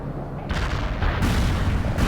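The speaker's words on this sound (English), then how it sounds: "Artillery barrage hit for full effect." Heavy artillery barrage in the video game World in Conflict: sustained low rumbling booms that swell at about half a second and again near 1.2 seconds, loud, continuous and close, with no talk over it.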